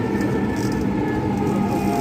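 A Dhaka metro train arrives at a station, making a loud, continuous rumble with steady broadband noise. No distinct events break the hum.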